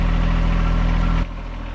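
A John Deere 1025R compact tractor engine rumbles loudly and steadily nearby in wet, heavy snow, then abruptly drops to a lower, quieter idle.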